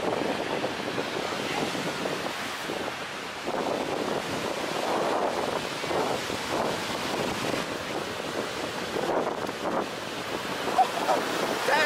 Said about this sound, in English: we're just at the beach today, checking out the water